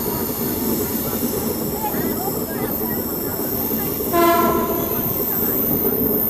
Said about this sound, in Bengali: চাম্পাসারি ফরেস্ট পার করার সঙ্গে সঙ্গে আমাদের ট্রেন ঢুকে পড়েছে সেবক ফরেস্টে।